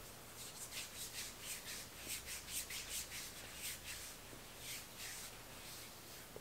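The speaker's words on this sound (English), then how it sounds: "So I'm just going to put this on my arm, shoulder area, and see how quickly it rubs in" Reef-safe vegan sunscreen lotion rubbed into the skin of the arm and shoulder, giving soft rhythmic swishing strokes, faint and close, with no talking.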